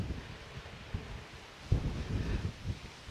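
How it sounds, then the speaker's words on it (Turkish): Strong wind buffets the microphone on a high hilltop castle site, a steady low rumble broken by several louder gusts that swell and thump close by, with no voices heard. "şu anda burada çok fazla rüzgar var"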